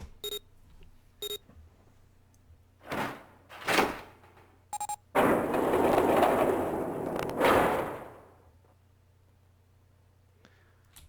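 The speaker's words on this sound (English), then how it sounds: "The door had opened." A door sliding open in the puzzle adventure game 999, preceded by a few short electronic beeps and chimes, then a loud whooshing mechanical rush lasting about three seconds that fades out, with no talking.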